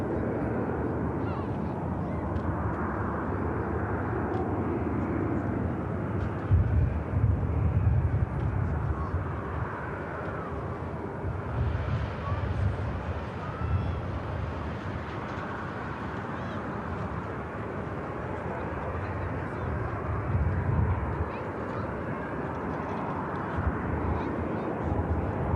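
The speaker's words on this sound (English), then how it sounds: "we have a Ryanair here on the taxi aircraft heading to Venice" A Ryanair jet taxis at Manchester Airport, its engines a low steady distant hum and rumble swelling slightly at times, heard under ongoing conversation.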